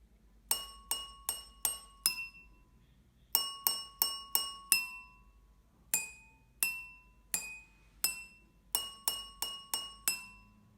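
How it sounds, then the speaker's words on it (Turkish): Drinking glasses holding different amounts of water are struck one by one to play a short tune, with clear ringing clinks in quick phrased groups separated by brief pauses, close and alone. "Şimdi size küçük bir şarkı çalmak istiyorum."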